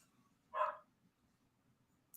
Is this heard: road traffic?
no